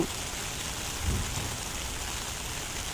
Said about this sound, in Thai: ก็เลยมาถ่ายคลิปฝนตกพอดีพอดีเลยค่ะ